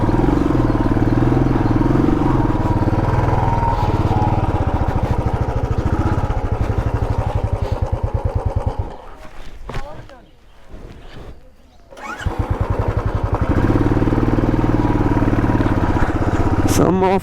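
A vehicle climbs an off-road track toward Patla Betta hill, its engine droning loud and close with a rough, pulsing idle, dipping briefly quieter mid-way before surging back.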